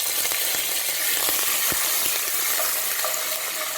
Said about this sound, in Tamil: கடுகு வெந்தயம் நல்லா பொரிஞ்சிட்டு இப்போ காஞ்ச மிளகா போட்டுக்கலாம் காஞ்ச மிளகா போட்டு கொஞ்சமாக கருவேப்பிலை போட்டுக்கணும்